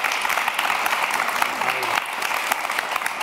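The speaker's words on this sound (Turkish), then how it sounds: "bir alkış alabilir miyiz? İlk güzel bir alkış." Studio audience applause on a Turkish Survivor panorama TV show, a steady wash of clapping throughout with faint talk and a brief tonal voice-like trace in the middle.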